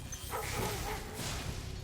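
Dogs in the Spyro Reignited Trilogy video game barking and yipping in a dense burst, mixed with game sound effects.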